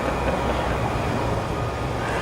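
Steady broadband rumble of a train rolling along the CSX Trenton Line tracks near the Northeast Corridor, constant and fairly loud for the whole stretch, with no talking.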